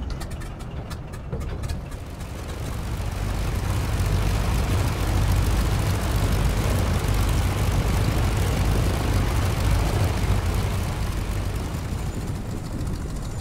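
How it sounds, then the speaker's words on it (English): Engine of a PT17 Stearman biplane in Microsoft Flight Simulator, throttled right back and stuttering at idle: a loud, continuous rough propeller drone that swells after the first couple of seconds and holds steady, with no talking. "You can hear, even if we bring the power all the way back, the engine stuttering away there."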